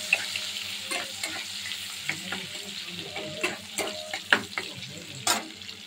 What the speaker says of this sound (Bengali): পেঁয়াজ কুচিগুলো দিয়ে দিলাম। পেঁয়াজটা হালকা করে একটু ভেজে নেব।